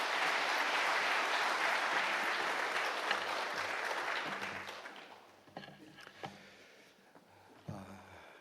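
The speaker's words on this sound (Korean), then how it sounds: "나오실 때 큰 박수로 환영하겠습니다." A church congregation applauds loudly to welcome a pastor to the pulpit during a thanksgiving, retirement and ordination service. The dense clapping runs steadily for about five seconds, then fades into scattered handling noises and a few isolated thumps.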